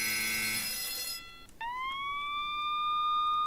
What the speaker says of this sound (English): Sound of sirens! Beach Hill's been hit.